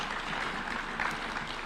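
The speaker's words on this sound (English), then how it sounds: "Yes, we can clap for them." Audience at a State House address in Kenya claps briefly, a steady, diffuse wash of applause from a crowd heard at moderate distance throughout the short moment.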